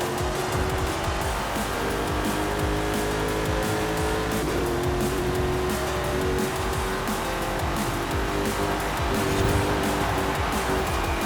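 A front-wheel-drive Ford F-150 Lightning electric pickup races and corners in a racing video game, giving a continuous loud drive tone with tire squeal and skidding through the bends and no talking.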